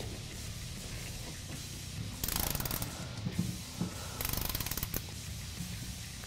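Torque screws driven into the step bracket of a 2016-2017 Dodge Ram 1500 during an AMP Research PowerStep install, heard as two bursts of rapid ratcheting drill clatter over a low steady hum, with short mechanical clicks between.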